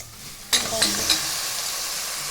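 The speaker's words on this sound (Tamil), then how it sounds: "வெங்காயமும் இஞ்சி பூண்டும் நல்லா வதங்கிடுச்சுப்பாங்க. இப்போ மட்டன் போடலாம்." Mutton goes into a pan of sautéed onion, ginger and garlic, setting off a sudden loud sizzle with a few stirring scrapes that settles into a steady frying hiss, with no voices.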